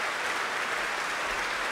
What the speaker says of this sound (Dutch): Neemt het applaus in de grote zaal van Tivoli Vredenburg hier